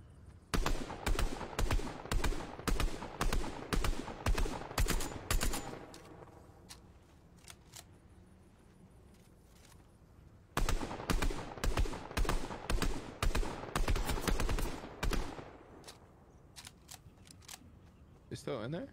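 Rapid automatic gunfire from a teammate in the video game Fortnite rattles in two long close bursts separated by a quieter pause, with sharp repeated shot transients and faint speech in the background.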